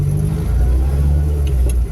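A Reliant Reaper with a suspected bad wheel bearing gives off a loud, steady low rumble as it drives along, a constant drone with no separate clunks standing out.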